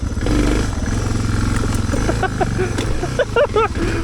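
A Suzuki DR650 dual sport motorcycle ridden off-road, its big single-cylinder engine thumping steadily up close under wind rush, with a rider's voice speaking over it.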